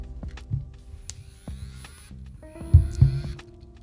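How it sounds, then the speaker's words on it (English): A Techart TZG-01 autofocus adapter for Contax G lenses on a Nikon Z6ii drives its screw-drive motor with a low whirring hum, broken by soft clicks and short buzzing bursts, the loudest pair near the end. "it's a screw drive motor"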